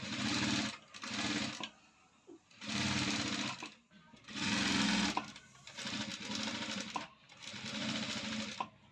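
A sewing machine stitches the neckline of a cross-cut blouse in close, loud bursts, about five runs of rapid whirring separated by short pauses.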